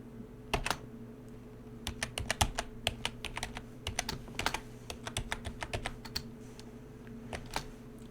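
Typing a password on a computer keyboard: quick bursts of sharp key clicks in irregular runs with short pauses, close and clear over a low steady background hum.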